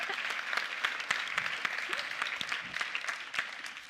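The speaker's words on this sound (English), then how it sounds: "let's clap for that." Audience applause at a software developer conference keynote, a steady dense wash of many hands clapping, loud and sustained across the whole stretch with no speech over it.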